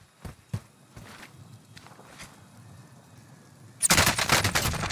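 Gunfire in the video game Call of Duty Warzone: a couple of scattered shots and footsteps early on, then a loud burst of rapid shots near the end, with no talking.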